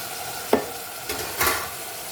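A spoon stirs a simmering mango and drumstick curry with tomato in a pan, giving a few soft scraping strokes over a quiet background sizzle, close by and without talk.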